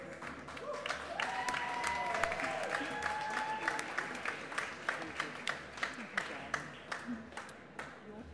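Audience applause at an Australian fashion laureate award ceremony during Mercedes-Benz Fashion Week: dense, steady clapping from a large crowd runs throughout, with brief tonal pings early on and a faint voice beneath.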